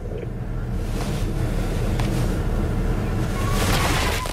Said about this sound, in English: His Mercedes SUV careened over a boulder,